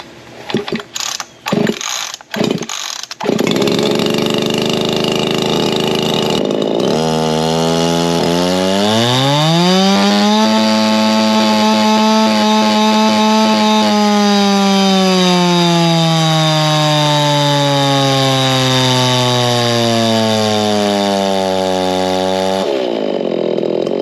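A ported Makita chainsaw for firewood gives a few sharp revs, then roars loud and steady while cutting wood, its pitch sagging under load before climbing back and idling down.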